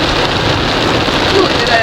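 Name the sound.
heavy rain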